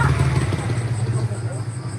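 Motorcycle engine passing close by on a street, a low steady drone that runs under children's and adults' nearby chatter.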